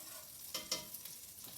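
Butter swished around a hot frying pan while making cinnamon French toast, giving a soft, quiet sizzle with two brief louder scraping stirs near the middle and a few faint ones after.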